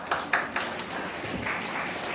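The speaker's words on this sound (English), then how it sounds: "Give him a lovely round of applause." A temple audience applauds for Ishan's birthday at a Diwali program held by the Shri Ram Naya Sabha in St Croix. The applause is sparse and uneven, with a few sharper claps standing out near the start, and it stays fairly soft throughout.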